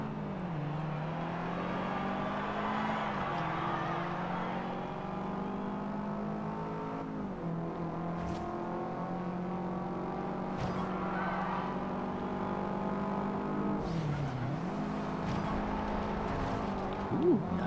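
Race car engines in a Forza Horizon 2 high-speed sprint race, a steady droning whine with shifting pitch as the cars accelerate and change gear, continuous and fairly loud with no talking.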